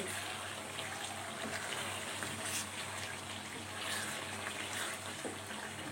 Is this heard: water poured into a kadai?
yes